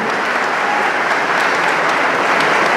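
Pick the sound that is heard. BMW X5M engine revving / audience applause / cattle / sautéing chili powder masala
audience applause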